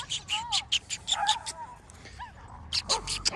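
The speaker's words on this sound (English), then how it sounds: "Just his dog going crazy." A dog barks and yips excitedly in short, repeated bursts with high whimpering cries between them. The sound is close and loud, and a person's voice is also heard.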